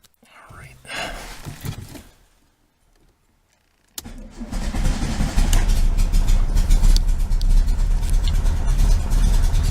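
A 1973 VW Super Beetle engine with a Dellorto FRD 34 carburetor and balance tube cranks briefly, then catches and settles into a loud, steady running idle, with soft voices near the start.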